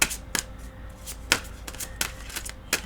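Tarot cards are shuffled and drawn by hand, giving sharp, close riffling snaps and soft shuffling swishes at irregular intervals.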